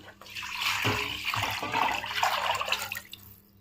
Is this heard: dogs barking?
no